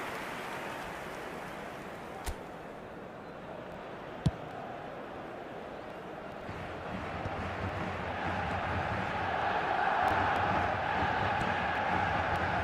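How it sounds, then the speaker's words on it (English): Stadium crowd noise in a football video game, a dense, steady roar that swells gradually louder toward the end, with a couple of sharp clicks early on and no talk. "it certainly got the crowd going"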